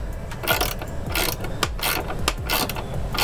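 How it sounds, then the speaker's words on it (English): A 13 mm socket ratchet tightens running board bolts on a Ford F150, rapid close pawl clicking in repeated bursts with metallic ticks, no talking. "13 millimeter socket to get it on."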